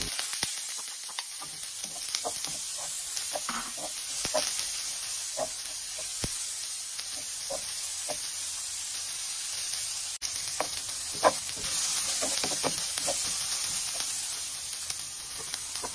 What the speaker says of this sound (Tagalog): Lagyan natin ng cooking oil, sibuyas at bawang.